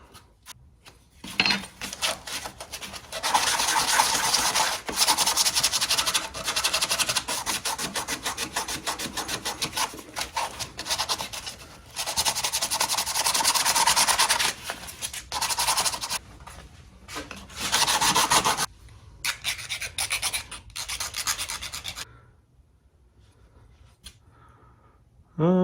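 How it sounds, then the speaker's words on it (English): Polishing a handmade prop amulet, a steady rubbing scrape in long bursts with short pauses, close and fairly loud, quieting toward the end. "Now for some polishing."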